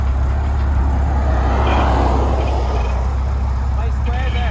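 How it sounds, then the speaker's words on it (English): A 1969 Mercedes 280SL rolls off the back of a transport truck, its engine a low rumble close by with some mechanical clatter, mixed with traffic-like noise and occasional voices. "here's the SL coming off the back of our truck from Ireland now."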